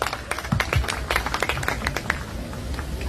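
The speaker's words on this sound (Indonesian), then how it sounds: "kita berikan tepuk tangan yang meriah buat Mbak Puan" Audience applause at a political meeting at GBK stadium in Jakarta, a dense crowd of scattered claps forming a steady, moderately loud wash for the full length.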